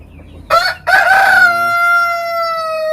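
A free-range rooster crows once, loud and close, in one long drawn-out call, with a brief clucking burst just before it in a backyard flock of Hubbard chickens.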